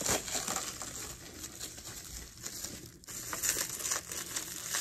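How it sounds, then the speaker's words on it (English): Soft, continuous crinkling of plastic wrap, close by and fairly quiet, with small crackles and rustles throughout. "plastic wrap sticks to itself"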